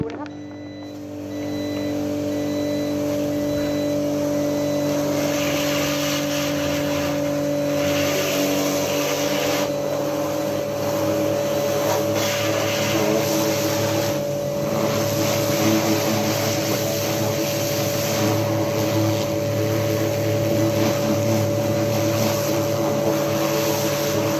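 A steady, loud high-pressure foam spray from a coin-operated car wash nozzle hisses and roars continuously, with a droning machine hum underneath, no pauses throughout.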